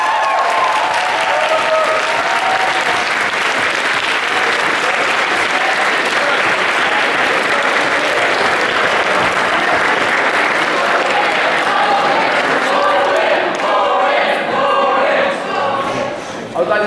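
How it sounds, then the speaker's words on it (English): A debate audience claps loudly and steadily for the speakers in a dense, sustained burst of applause, with some voices and cheers mixed in as it thins toward the end. "we're going to have one more round of applause for everybody"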